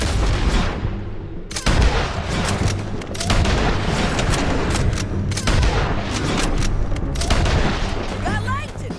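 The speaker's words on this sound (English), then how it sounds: "Let's just start shooting." Loud, dense gunfire in Red Dead Redemption 2: repeated booming shots and rapid volleys, some close and some farther off, with voices talking over the shooting.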